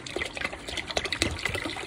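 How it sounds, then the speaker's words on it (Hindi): Water poured into a pot of yogurt and gram flour curry (kadhi), about three glasses' worth, a steady splashing pour with small gushes and trickles throughout, close and moderately loud, with no talking. "तकरीबन मैं 3 गिलास पानी इसके अंदर डाल रही हूँ"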